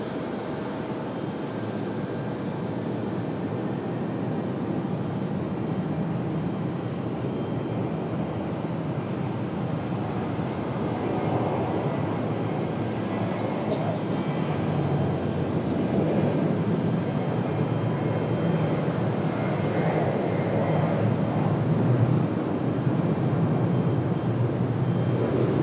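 An Alaska Airlines jet takes off at Raleigh Durham airport, a steady distant roar of engines that holds for the whole stretch and swells slightly toward the end.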